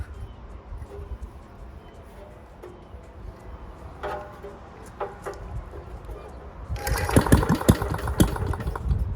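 An old Briggs and Stratton Model 9 engine sputters unevenly with faint, intermittent pops, then roars louder and rougher over the last couple of seconds, close by.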